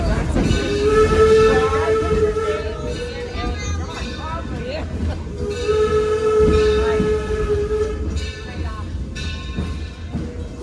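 A train rumbles past with a heavy, continuous clatter while its horn blares in long tones; voices talk over the noise.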